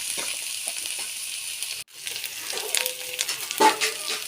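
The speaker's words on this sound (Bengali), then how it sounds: "এটাকে খুব ভালো করে কষিয়ে নেব মশলাটাকে" Spice paste of turmeric, salt and cumin powder frying in a pan for an egg dish, a steady close sizzle with a few stirring scrapes and brief clinks, no talking.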